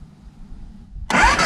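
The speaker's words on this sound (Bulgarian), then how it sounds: "Звука на BMW-то. Инжекцион. Не е карбуратор като Сузукито." A fuel-injected BMW F 650 GS motorcycle engine cranks and catches abruptly after a quiet moment, loud and close, running on briefly after starting.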